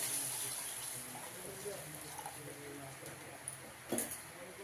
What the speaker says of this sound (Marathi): बटाटे शिजण्यासाठी आपण पाणी ॲड करूया